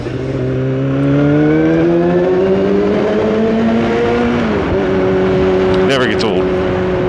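A motorcycle rides through a tunnel, and its engine drone rises and echoes as the rider accelerates, staying loud and close throughout.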